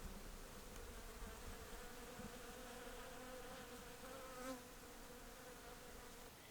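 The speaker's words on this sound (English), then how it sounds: "I love the hakea tree at this time of the year because it's one of the few with flowers for the bees, and it buzzes in the winter." Bees buzz around a flowering hakea tree in winter on an Australian homestead, a faint, continuous hum that swells slightly for a moment near the end.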